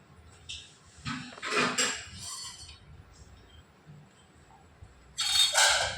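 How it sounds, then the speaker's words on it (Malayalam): Clay pots and vessels being arranged in a kitchen: a few separate clinks and knocks of pottery and metal, with a louder clatter near the start and another at the end, close by and with no talking. "ഇനി നമ്മൾ ഇവിടെ കുറച്ച് ചട്ടിയും പാത്രമൊക്കെ ഒന്ന് അടുക്കി പെറുക്കി വെക്കാൻ"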